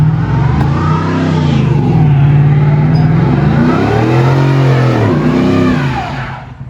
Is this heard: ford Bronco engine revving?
yes